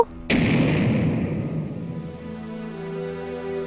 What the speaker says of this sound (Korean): 다리 건너편에서 꽃이 폭발했다?